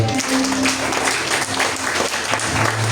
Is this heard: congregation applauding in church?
yes